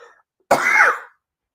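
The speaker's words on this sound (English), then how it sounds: "I told you I'd be coughing through the whole show" A single sharp, loud cough bursts out after a short quiet pause, then trails off.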